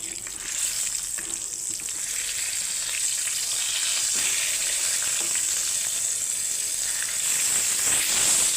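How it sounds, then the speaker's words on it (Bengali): Eggplant slices frying in oil give a loud, continuous sizzle and hiss, steady throughout with slight swells and no voices. "এইখানে এখন বেগুন ভাজা চলছে এই যে বেগুনগুলো ভেজে নিচ্ছি"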